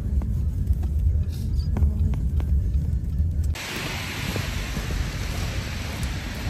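Strong wind gusts during heavy snowfall outdoors, a steady broadband rush that shifts abruptly midway into a flatter, hissing roar, loud and continuous with no voices.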